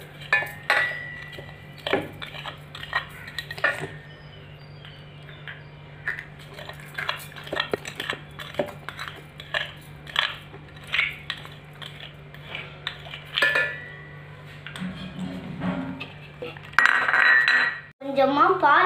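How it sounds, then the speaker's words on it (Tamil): Carrot pieces and sugar tipped into a juicer jar, giving scattered close clinks, taps and light rattles against the jar, with a denser clattering burst near the end. "இப்போ வந்து கேரட்டும் சுகரும் போட்டுடலாம்"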